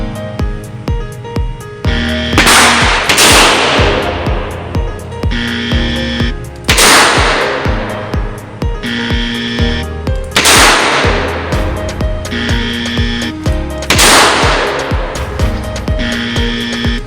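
Smith & Wesson Model 10 revolver fired at an outdoor range in a timed qualifying string, loud sharp reports spaced a few seconds apart, about five shots in a steady rhythm.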